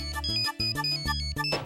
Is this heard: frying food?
no